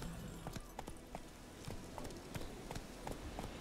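Roach the horse galloping in The Witcher 3, quiet hoofbeats thudding in a steady rhythmic pattern with faint background game ambience.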